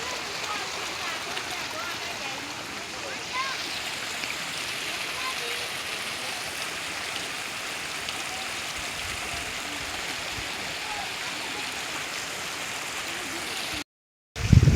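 Water runs steadily through an irrigation channel in a village rice paddy during transplanting, a constant close rushing flow with no pauses that ends in a brief cutoff and a burst of handling noise.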